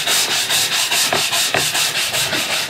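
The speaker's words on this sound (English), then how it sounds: "give it a good scrub off." A stiff wet brush scrubs off an eco-friendly paint stripper in quick, loud, rhythmic back-and-forth strokes, each one a harsh rasp with no one speaking.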